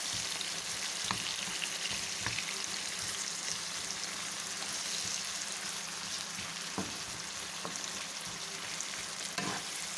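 Mushrooms fry in a pan with cooked carrots, a steady close sizzle broken by several scraping stirs and knocks of a spoon against the pan.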